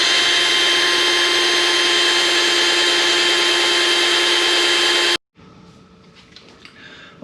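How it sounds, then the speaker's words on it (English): A power tool drills out a stripped body screw on a Kawasaki, running as a loud, steady whir for about five seconds before stopping abruptly, followed by quieter handling noises. "And yes, we are going to use power tools."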